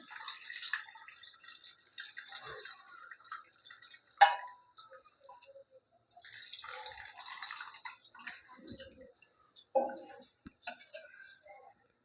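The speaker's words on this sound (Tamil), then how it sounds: "இப்போ நம்ம புளி தண்ணி கரைச்சி வச்சுருக்கோம் பாருங்கள், அதையும் ஊற்றிடலாம்" Tamarind water is poured into a simmering eggplant curry in oil, with gentle liquid splashing and sputtering in two stretches, broken by a few sharp clicks of a utensil against the pot, close and fairly quiet.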